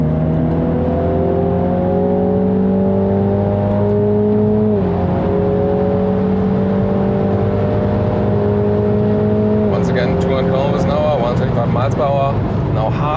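A 306 hp 2020 Mini John Cooper Works GP accelerates hard on the Nürburgring, its engine droning loud and rising in pitch through the gears with a shift near the middle, under continuous in-car talk and with a later burst of clatter.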